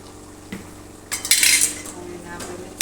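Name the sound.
stirring and mixing spices in a cooking pot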